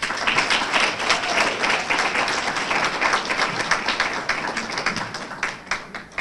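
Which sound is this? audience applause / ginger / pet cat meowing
audience applause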